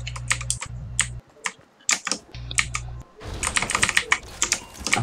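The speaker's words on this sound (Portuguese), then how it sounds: "esse barulho de teclado é relaxante" Rapid clattering computer keyboard typing during a Fortnite live stream, close and loud, with irregular bursts of keystrokes, a brief pause, then a denser flurry, over a low steady hum.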